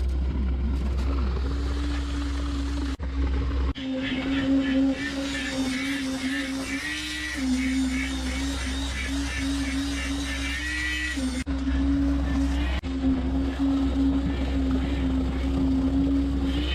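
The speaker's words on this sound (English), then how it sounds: "Vibration liquefies the mix just enough to consolidate it tightly against the formwork" A concrete vibrator consolidates freshly poured concrete against formwork on a home construction site, giving a continuous loud motor hum with a steady tonal whine that wavers slightly in pitch, briefly dropping out twice.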